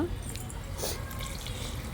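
Water is poured into a pot of ordinary non-basmati rice for cooking, a soft, close splashing stream that runs steadily over a low background rumble.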